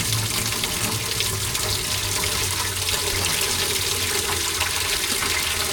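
Water pours steadily out of a 1940s CAT D8 dozer gear case that should be dry, a continuous close splashing and gurgling stream with no pauses or talk.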